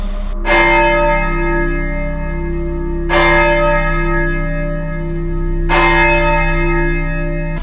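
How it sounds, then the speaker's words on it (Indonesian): A large bell tolls three times in front of an empty house, each loud ringing strike blooming into a long humming decay with a steady low drone underneath. "Suara lonceng mendadak berbunyi tepat di depan rumah kosong."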